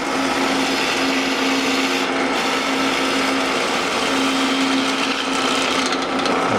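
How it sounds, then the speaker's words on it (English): A loud, steady power drill whines through wood, drilling out the inlaid hoops of a drum, grinding continuously with a constant pitch for several seconds, with no one talking. "took a side mission to drill out the inlaid hoops."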